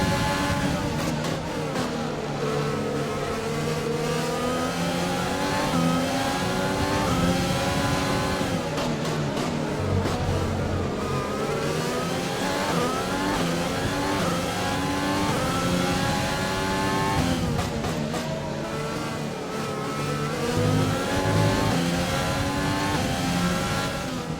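A Formula 1 car engine in a video game revs loudly and continuously at the Barcelona Grand Prix, pitch climbing and dropping through repeated gear shifts, with a faint voice underneath.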